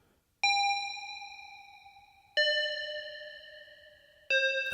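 Bell-like dings from a Eurorack modular synth: three bright, ringing tones with clear harmonics, each struck sharply and fading under a reverb tail, spaced about two seconds apart.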